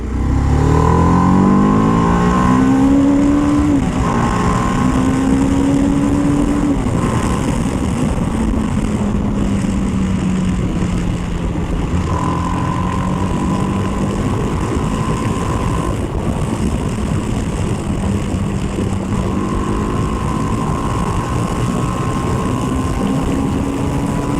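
A TVS Apache RR 310 motorcycle engine is revved repeatedly under throttle, its pitch rising and falling in loud, near sweeps over a constant road and wind roar, with no talking.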